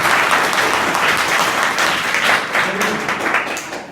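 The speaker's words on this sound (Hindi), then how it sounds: "उसके लिए ताली।" A school assembly of class 8 to 10 students at an inter college breaks into loud, sustained applause from a large crowd of young people, with a few voices faintly mixed in.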